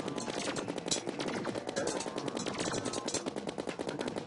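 Rapid automatic fire from the Mega Shark gun shooting crystal bullets in Terraria during the Skeletron Prime boss battle, a dense, continuous rattle of shots that runs loud and unbroken throughout.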